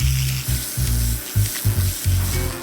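A pressure washer blasts the scales off a carp, roaring loud and close in repeated bursts with short pauses between passes, the spray hissing and spattering throughout, and no talking.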